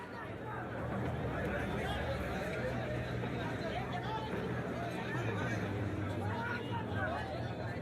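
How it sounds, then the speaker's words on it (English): A dense crowd of commuters packs a train station at rush hour, a steady, continuous babble of many overlapping voices with shuffling and station rumble underneath, holding at a constant loud level throughout. "So at rush hour, the stations are swarming with people."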